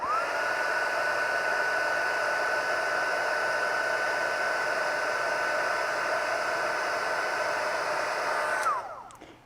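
A heat tool blows hot air steadily onto paper, a constant whooshing drone that runs alone for about nine seconds before cutting off near the end.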